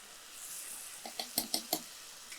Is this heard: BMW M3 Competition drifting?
no